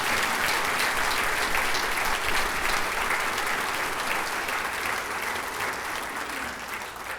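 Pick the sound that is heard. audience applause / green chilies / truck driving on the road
audience applause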